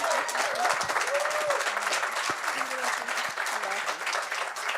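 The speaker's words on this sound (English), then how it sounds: "Can we give them a round of applause?" Broadband crackle of clapping fills the whole stretch at a Farm Aid 2022 panel, steady and fairly loud, with a few voices calling out over the crowd's applause.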